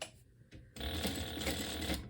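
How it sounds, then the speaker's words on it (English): A sewing machine stitches around a drawn box on a sling bag panel, starting with a few short bursts and then running steadily and loudly with a dense, rapid buzz. "We're just going to sew around this box that we drew"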